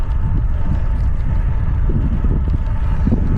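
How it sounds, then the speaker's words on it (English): Steady wind buffets the microphone during a bicycle ride near the Mexican border, a continuous low roar and rumble that stays loud and unbroken from start to finish, with no voices. "The wind is blowing."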